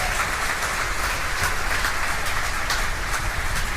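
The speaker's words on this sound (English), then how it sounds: "You hear the applause from the team gathered around Mission Control Center here in Hawthorne" The team gathered at SpaceX Mission Control in Hawthorne breaks into sustained applause, a dense, even wash of many hands clapping that stays steady and fairly loud for the whole stretch.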